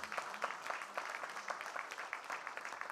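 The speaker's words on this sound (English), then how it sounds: "let's applaud him for his continued effort" An audience at a business forum session on access to finance claps, a faint, steady patter of many hands lasting a few seconds.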